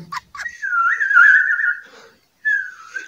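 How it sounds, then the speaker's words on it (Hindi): A single shrill whistle sounds loud and close in a long wavering tone lasting over a second, then stops briefly before a shorter second blast, with no talking over it. "हाय सीटी बज गया"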